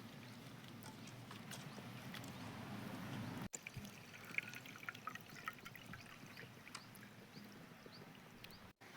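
Flattened rice flakes are rinsed in clean water in a bowl, with soft sloshing and trickling of water, then a few light splashes and clinks, fairly quiet and close, with no voices.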